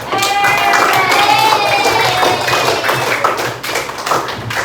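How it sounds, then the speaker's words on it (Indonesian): A classroom full of students applauding for a group after a lesson, dense steady clapping that stays loud throughout, with some voices and shouts mixed in. "Kita berikan aplaus dulu untuk kelompok 4"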